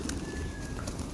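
Pigeons cooing softly during a feeding in East Legon, Accra, Ghana, a low murmur of bird calls over steady outdoor background noise.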